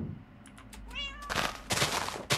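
A black cat meows in a Minecraft game: a single short, clear meow, followed by a flurry of sharp clicks and thumps from game action.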